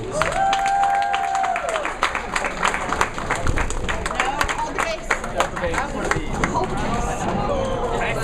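An audience at a bowling tournament final, the JBT Desert Open, claps for the winner in a sustained burst of applause, with an announcer's voice talking over it.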